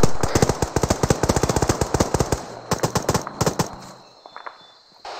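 Close automatic gunfire in the military shooter ArmA 3 during a jungle firefight: a long rapid burst of sharp, evenly spaced shots, a pause, then another burst, tapering off to quiet near the end.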